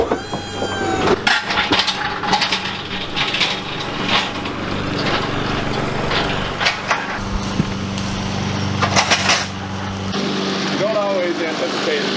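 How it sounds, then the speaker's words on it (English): A neighbor's lawn mower engine drones steadily from next door, a persistent mid-distance hum under clattering and thumping from nearby sauna assembly work, with people talking over it. "anticipate the guy next door mowing the lawn"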